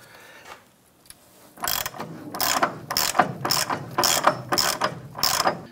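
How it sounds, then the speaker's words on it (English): A ratchet with a 15/16 socket loosening a nut on the rear upper control arm mounting bracket of a 1994–2004 Chevrolet S10. It gives six or seven loud, close, rhythmic clicking pulls with brief pauses between strokes. "Using a 15-16 socket, we're gonna go ahead and loosen this nut here."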